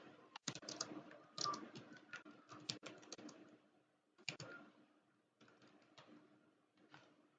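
Computer keyboard typing while writing a sentence into a LaTeX document, with irregular bursts of clustered key clicks, short pauses and a few sharper strokes, close and fairly quiet with no talking.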